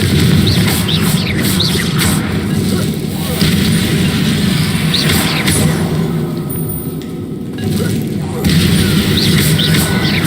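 Repeated Confringo blasting spell bursts in the video game Hogwarts Legacy, booming impacts recurring every second or two over a loud, dense background of combat noise, with a voice speaking at times.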